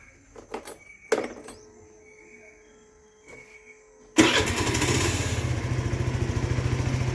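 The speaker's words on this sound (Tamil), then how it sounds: "இனி இந்த வண்டியை ஸ்டார்ட் பண்ணி பார்த்துடலாம்." A scooter engine kicks into life after a spark plug fix, following a few faint clicks and clunks, then settles into a loud, steady, close idle with a rapid pulsing beat.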